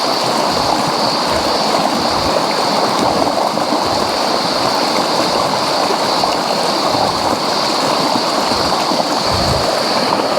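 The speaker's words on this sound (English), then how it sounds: "A little natural water chute." Water pouring steadily down a small natural chute in a mountain trout stream in Victoria's High Country, a close, continuous rushing and splashing with no talk.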